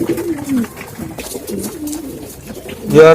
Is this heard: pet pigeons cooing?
yes